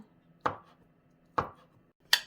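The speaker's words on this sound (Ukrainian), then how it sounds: "Яйця також нарізаємо." Boiled eggs being chopped with a knife on a board, three separate sharp knocks spaced roughly a second apart, close and clear against a quiet background.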